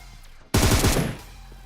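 Burst of automatic gunfire in the battle royale game PUBG, a loud rapid rattle of shots starting abruptly and running about half a second before tapering into echo.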